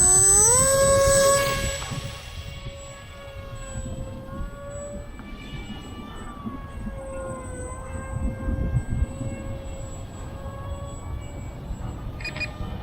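VolantexRC Ranger 750 ready-to-fly RC plane flying in expert mode with no stabilizer, into the wind: a steady motor whine with shifting pitch that changes as it passes, loud at first then settling at a moderate distance, with wind noise below.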